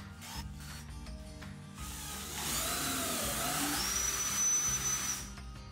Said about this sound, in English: pre-drill each of these holes with the boards clamped together